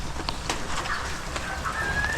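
A few soft clucks from a chicken near newly hatched chicks, heard close amid faint outdoor background noise, with brief higher peeps.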